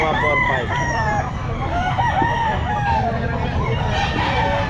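Roosters crow and chickens cluck at a rainy outdoor pet market in Grotto, with overlapping crows carrying steadily through a busy, noisy background.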